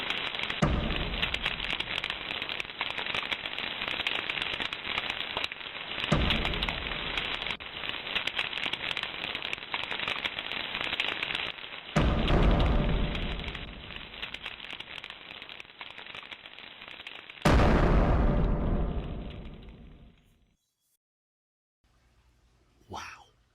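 Roaring fire as Sita plunges into the flames, a loud, dense crackling wash of sparks and flame that surges in bursts, holds for about twenty seconds, then drops abruptly to near silence before a faint tail.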